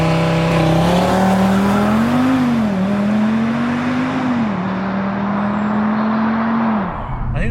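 An Audi RS3 8Y with a red diff launches with all four wheels spinning, its engine drone rising and wavering loudly under a steady roar of tire noise for several seconds.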